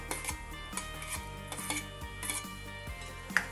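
A spoon scrapes and clinks against a pan as potato and onion curry is stirred. The stirring is close and rhythmic, with repeated strokes over a steady background tone.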